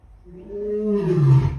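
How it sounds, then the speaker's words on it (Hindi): A tiger roars at Vantara, a single loud, close roar that swells over about a second and a half and deepens into a heavy growl at the end. "भाई ये तो दहाड़ रहा है।"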